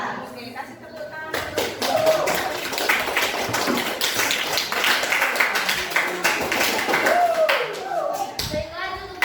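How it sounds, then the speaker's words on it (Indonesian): An audience gives a burst of steady clapping after a group presentation in a classroom, many hands patting together for several seconds, close and fairly loud, with a voice speaking over it. "Oke, kasih tepuk tangan."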